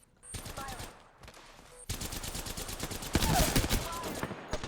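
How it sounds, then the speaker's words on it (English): Rapid automatic gunfire in the video game Apex Legends, with dense bursts of repeated shots that grow louder and more continuous toward the end, plus a few brief interface tones and a quiet voice in the background. "I'm getting shot from elsewhere."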